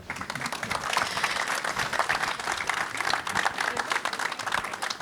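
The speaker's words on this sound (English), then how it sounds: "Another round of applause for them." An audience at a public event at Fort Zoutman in Aruba applauds, a dense, sustained wash of many hands clapping at a steady, fairly loud level, heard alone.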